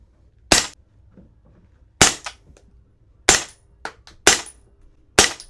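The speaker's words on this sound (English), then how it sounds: "That Precision Armament 360 Ti sounds amazing, especially with those subsonics." Suppressed airsoft rifle with a Precision Armament 360 Ti suppressor firing subsonic rounds: five sharp cracks spaced over several seconds, each with a brief echo, loud and close, no talking.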